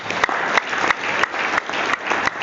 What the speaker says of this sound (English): Clap for GTEx home.